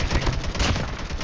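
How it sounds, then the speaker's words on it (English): Rapid bursts of gunfire crackle continuously, dense and loud, like an automatic weapon firing in quick succession with no pauses. "Gunshots."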